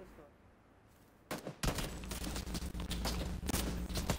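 Gunfire in the PUBG video game: after a quiet opening, a sudden burst of shots breaks out, followed by a dense run of rapid, repeated reports with sharp cracks spread throughout.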